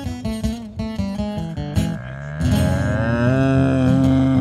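A cow moos in the setting of the 2019 Kamper Koe cow-in-the-tower event: a choppy, pulsing stretch gives way to a long, loud, sustained low bellow, with no talk over it.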